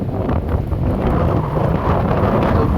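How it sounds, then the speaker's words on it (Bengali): Heavy rain and strong wind at the Daulat Khan launch ghat, with wind buffeting the microphone in a loud, constant roar that never lets up for the whole stretch. "তো বৃষ্টি, বাতাস,"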